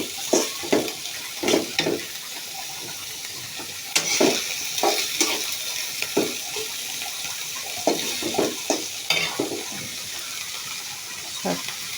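Chopped leafy greens cook in a pot on a home stove, giving a low sizzle. Repeated scraping and stirring clatters come in irregular bursts over the sizzle, with a faint watery hiss.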